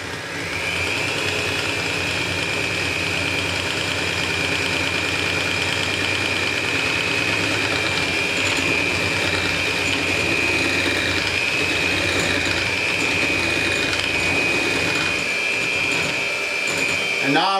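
Electric stand mixer whisking egg whites with hot syrup for marshmallow, a loud steady whirring drone with a sustained high whine that holds evenly throughout, no pauses.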